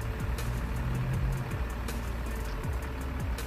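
A Laksana-bodied intercity air-conditioned bus idles nearby with a low, steady engine rumble and shifting low tones, plus faint clicking in the background and no speech.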